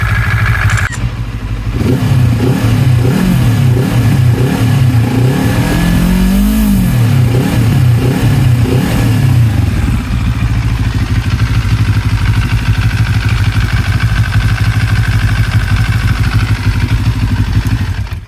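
QJMOTOR SRT700X motorcycle engine running at a standstill during an 18,000 km service, loud and close: a few wavering revs and blips over the first half, then settling into a steady, even idle, with no talking.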